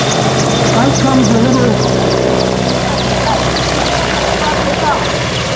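An EH101 Merlin helicopter lifts off in a maximum-rate takeoff and transitions away, its loud, steady rotor and turbine roar filling the whole clip, with voices talking over it.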